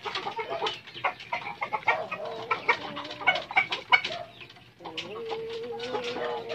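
Several roosters cluck and squawk busily nearby, overlapping calls with a few drawn-out crowing notes, fairly loud and continuous.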